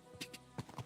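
A few soft hoof clip-clops from a walking horse in Kingdom Come Deliverance 2, quiet and close, lasting about a second with no talking.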